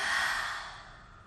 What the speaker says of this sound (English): One more nice deep breath, in through the nose, and exhale through the mouth.